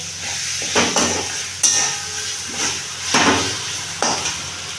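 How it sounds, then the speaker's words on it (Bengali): Spatula scraping and stirring turmeric, cumin powder, chili powder and a special spice mix in a frying pan, with several distinct scrapes over a steady faint sizzle and no talk. "হলুদ দিলাম তৈরি করা স্পেশাল মশলা দিলাম জিরে গুঁড়োনো দিলাম এবার একটু নাড়বো"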